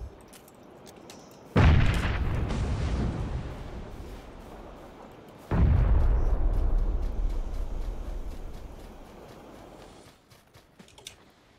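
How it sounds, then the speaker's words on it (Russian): Two smoke grenades go off in the PUBG battle game, each a sudden loud burst followed by a long hissing spray that fades over several seconds, with faint clicking in between and no talk. "Это я дымы кидаю."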